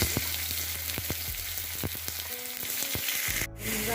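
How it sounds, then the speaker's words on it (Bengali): Sliced onion frying in hot oil with bay leaf and whole garam masala spices, a steady loud sizzle broken by sharp spatula scrapes and knocks against the pan, with a brief pause near the end. "এবার পেঁয়াজটাকে ভাজবো"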